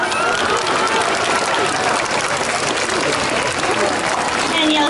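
Dense, sustained clapping from a large audience at a sea lion show at Long Island Aquarium, loud and steady throughout with a crowd murmur mixed in.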